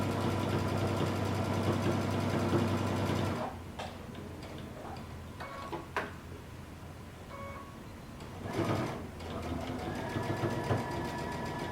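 Sewing machine stitching a 5/8 inch seam across the shoulder and around the neck of a tunic. It runs in a fast, even mechanical hum and ticking, pauses with small clicks, then runs again.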